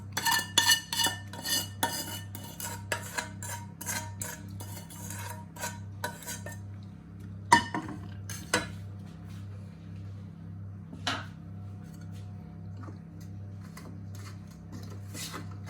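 A metal spoon scrapes and taps against a cake mould while spreading caramel for a pineapple upside-down cake, a run of quick clinks early, then scattered scrapes over a steady low hum.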